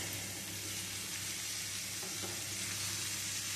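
Vegetables, pointed gourd and fried soybean chunks sautéing with spices in a pan, a loud continuous sizzle with stirring scrapes, close and alone.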